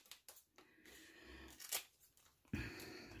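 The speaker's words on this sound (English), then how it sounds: "the couple of bottom ones, I do cut off with the scissors" Close, crisp scissor snips and crunchy tearing of tough artichoke leaves, a few separate cuts with short pauses between.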